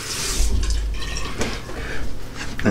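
Water runs and splashes steadily while a razor is rinsed during a wet shave, with brief drips and sloshes, fairly close and with no talking.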